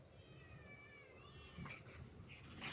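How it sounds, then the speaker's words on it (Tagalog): A group of about ten house cats meow; several drawn-out, wavering cries rise and fall over a low background hum, fairly faint, with no talking. "Daming pusa."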